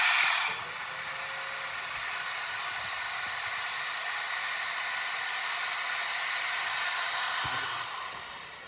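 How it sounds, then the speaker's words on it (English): A Festool cordless dust extractor vacuum switched on by a miter saw, a steady loud broadband whoosh of suction that starts abruptly, holds evenly for several seconds, then begins to wind down. "the vacuum starts up and then stays on for like 5 or 6 seconds after the saw disengages"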